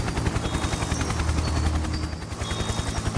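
An animated helicopter in a cartoon chase flies along with a steady, loud, rhythmic rotor thump over a dense roar of engine noise, continuous throughout with no voices.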